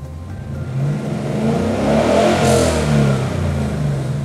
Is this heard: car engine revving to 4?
yes